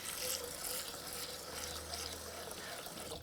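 Rice is rinsed in a bowl of water for chicken fried rice, with a continuous close swishing and trickling of water.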